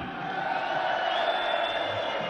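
Darts crowd at the German Darts Championship in Hildesheim, a steady wash of cheering and whooping that swells slightly, heard from within a large hall.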